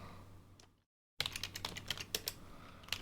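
Keys clatter on a Famicom computer keyboard in quick, close, irregular clicks, starting after a brief silent gap and continuing steadily.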